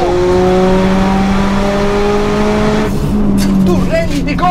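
A sports car accelerates hard, its engine note climbing steadily through the gear and then dropping at a shift before rising again, loud and close, with a voice speaking over it.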